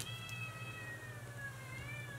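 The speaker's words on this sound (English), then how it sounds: "She likes to meow." A new kitten meows in long, drawn-out, rising and falling cries, close and steady over a low constant background hum, with no talking.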